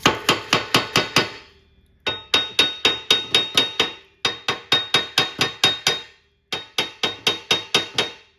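Steel hammer striking a rusted nut and bolt, front and back, in rapid bursts of six to eight sharp metallic blows with short pauses between, loud and close with ringing decay.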